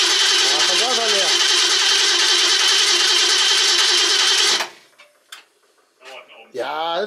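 A Robur truck engine with an empty carburetor cranks loudly and continuously for over four seconds without catching, then cuts out, followed by quieter clicks and someone speaking.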